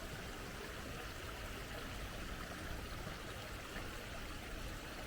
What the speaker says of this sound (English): So let's check out the brook.